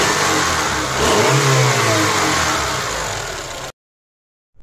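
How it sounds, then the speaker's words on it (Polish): A fifth-generation Honda Accord engine is revved from a steady idle, the pitch climbing and holding loud before easing back, then cutting off abruptly. "Dodajmy gazu."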